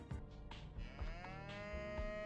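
A cow in the video game Toilet in Wonderland moos in a long, drawn-out call that rises and wavers, loud and close over a steady thumping game backdrop.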